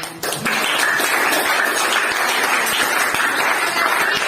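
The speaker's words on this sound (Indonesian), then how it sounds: "Ya, tepuk tangan dulu" Classroom applause during a speech lesson, a brief pause then a sudden burst of sustained, dense clapping from a group of students filling the room at steady loudness.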